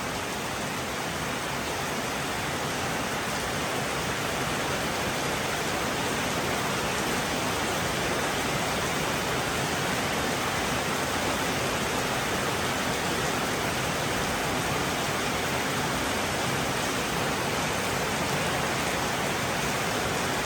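Heavy rain pours down in a dense, continuous roar for the whole stretch, loud and unbroken, with no voices.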